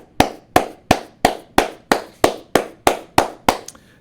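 Applause for battle rapper Hollowman comes as about ten sharp, evenly spaced claps at a slow steady beat, close and crisp, with no voices.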